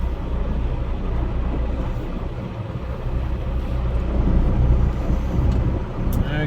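A long empty coal train rolling past in North Dakota, a loud, continuous low rumble and rattle of cars that swells slightly as it goes by.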